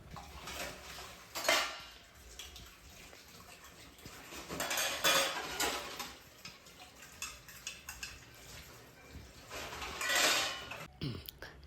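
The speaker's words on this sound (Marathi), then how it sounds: "त्यानंतर मग सगळे भांडे वगैरे मी घासून घेतले" Steel pots, dishes and cutlery being washed by hand at a kitchen sink give quiet clinks, scrapes and clatters in irregular bursts, close by and with no talking.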